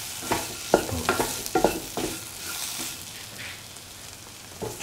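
Bean and carrot stew with turmeric, pepper and salt being stirred and mixed in a hot pan: several quick scraping strokes against a steady sizzle, busy at first, then easing into soft frying with one last scrape.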